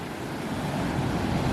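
Rough sea waves wash steadily against a coastal rock ledge on the Eyre Peninsula, a dense, continuous roar of surf mixed with wind noise.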